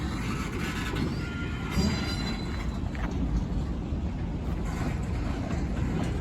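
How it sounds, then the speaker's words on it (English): A BNSF freight train rolls past with an old caboose at the rear, giving a steady, loud rumble of wheels and cars with faint squeals, continuous throughout with no talking. "Seeing an old caboose still able to do its job. Bringing up the rear of the train."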